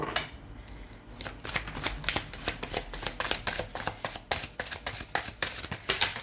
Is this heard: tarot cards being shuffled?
yes